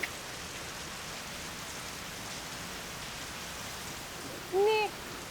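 Heavy rain pours down in a dense, steady hiss that stays even throughout, with a short vocal sound rising briefly over it near the end.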